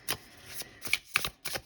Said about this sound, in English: So I'm going to do your shuffling now.